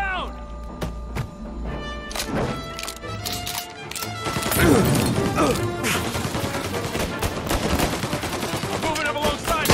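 Rapid bursts of gunfire and impacts crackle through a busy Mafia: Definitive Edition game soundscape, with voices talking over the shooting.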